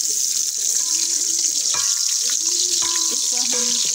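Onions added to hot oil fry with a loud, steady hiss and crackle close by, with faint clinks of a utensil stirring in the pan and no one talking.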